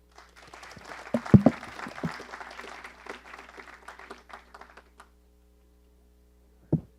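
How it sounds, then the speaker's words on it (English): Audience applause at the closing session of a systems analysis conference, a brief burst that peaks early and thins out over several seconds, followed by a lone thump near the end. "A round of applause for yourselves."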